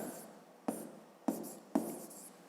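A pen or pencil scratches out a fraction on paper, three short strokes at a steady pace, close and quiet with no talk.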